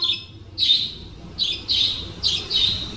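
Pet lovebirds give several bright, high chirping bursts in an irregular rhythm, close by and fairly loud against a quiet room, with no one speaking.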